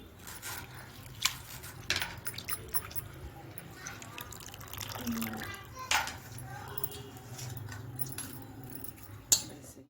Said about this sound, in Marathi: खूप पाण्याने अशी विसळून अशी चांगली स्वच्छ करून घ्यायची.